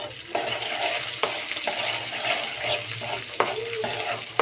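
Green chillies dropped into hot oil for a chilli puri tempering, a steady close sizzle and frying hiss with occasional stirring scrapes and clicks, no voices.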